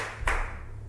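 A single sharp hand clap from podcast hosts in a studio, close and brief, then fading into a low steady hum.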